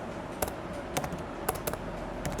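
Code typed on a computer keyboard, quiet rapid keystroke clicks in an irregular rhythm, close and alone.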